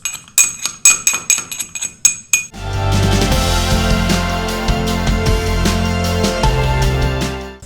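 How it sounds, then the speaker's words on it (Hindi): Black pepper, dry ginger and cardamom pounded for kadha: a few sharp metallic strikes up front, then a dense continuous grinding and clattering that carries on to the end. "काढ़ा बनाने के लिए मैंने काली मिर्च को और सूंठ को और इलायची, इन तीनों को हमको अच्छे से बारीक कूट लेना है।"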